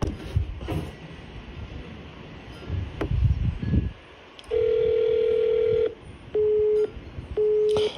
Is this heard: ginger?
no